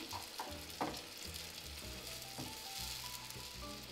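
Tomatoes tossed into a pan of garlic fried until just golden give a steady frying sizzle, broken by the soft scrape and clatter of stirring.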